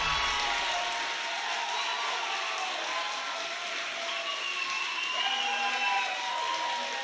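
Crowd at an Overwatch esports match, the Atlantic Showdown, cheers and applauds in a large arena. The roar is steady and dense, with whoops and shouts rising above it for the full stretch.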